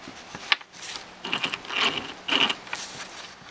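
Gears of a Traxxas Stampede RC car being meshed by hand give close, quiet mechanical clicks and ratcheting scrapes in several short bursts, with no talking.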